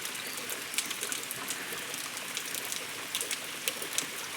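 Steady rain pattering down in a village, a soft continuous hiss with scattered sharper drops landing on a surface; no voices.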